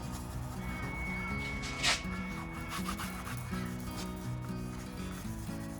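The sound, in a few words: Scotch-Brite pad rubbing polished aluminium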